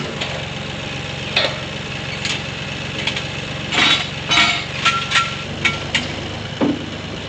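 Farm tractor engine idling at a steady drone while preparing for hay work, with intermittent clanks and knocks from equipment being hooked up over the running motor.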